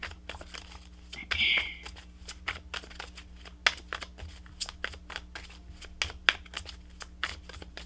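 Tarot cards being shuffled at close range in repeated quick riffling bursts and soft papery snaps, with one louder crinkle early on and a person talking over the shuffling.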